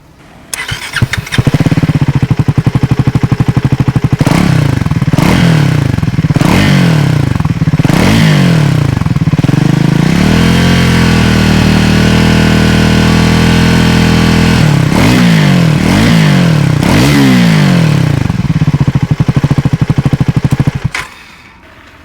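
A 400cc Scrambler motorcycle fitted with an aftermarket end can exhaust starts up close by and is revved in repeated sharp bursts, settles into a steady idle, revs again several times, then shuts off.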